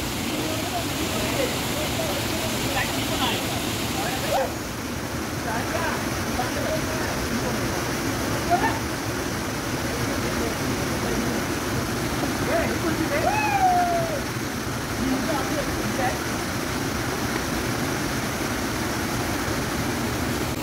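Steady rushing and splashing water at a village swimming spot in Konkan, a constant broad wash heard nearby, with faint distant voices and occasional small cries mixed in.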